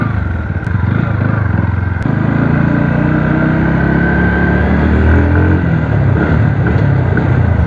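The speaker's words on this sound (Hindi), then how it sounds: "भाई अब मैं व्हीली मारूंगा एक मम्मी के सामने" Bajaj Pulsar NS160 motorcycle engine revving hard through a wheelie, a loud, steady, close engine roar with slight rises in pitch, no talking.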